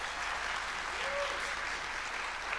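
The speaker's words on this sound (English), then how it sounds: "That deserves a second round of applause" A second round of applause from a conference plenary audience, a soft, steady patter of many hands clapping at a distance, with a faint voice briefly rising through the middle.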